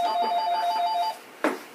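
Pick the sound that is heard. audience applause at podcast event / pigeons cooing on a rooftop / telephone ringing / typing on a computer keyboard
telephone ringing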